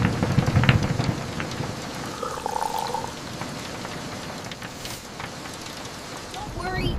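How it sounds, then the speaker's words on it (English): Steady rain patters on forest leaves around a camping tent, a dense, even hiss that is loudest at the start and holds at a moderate level throughout, with no talking. "listening to the lullaby of the rain on the leaves"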